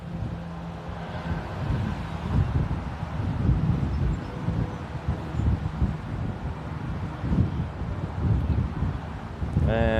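A steady breeze buffets the microphone outdoors, producing a continuous low rumble that rises and falls in gusts, with a brief tonal sound near the end.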